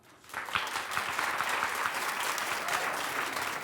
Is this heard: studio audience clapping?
yes